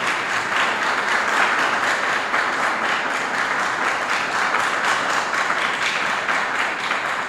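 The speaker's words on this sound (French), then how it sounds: "je demande d'applaudir très fort" An audience at a press conference applauds loudly and continuously, a dense, even roar of many clapping hands lasting the whole stretch with no talk over it.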